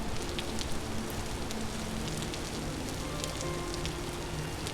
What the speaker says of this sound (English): Rain is certainly nice for farming.